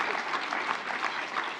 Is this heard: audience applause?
yes